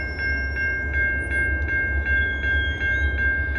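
Railroad crossing bell on the Kanawha River Railroad line dinging in a steady, evenly spaced rhythm as the gates lower, clear and close above a low rumbling background.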